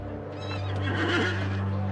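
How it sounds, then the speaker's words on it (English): A horse lets out a loud, close whinny rising and wavering over a low steady hum, with faint hoof clip-clops beneath, in a ceremonial entry into Jerusalem. "General Edmund Allenby dismounted from his horse and entered the city on foot"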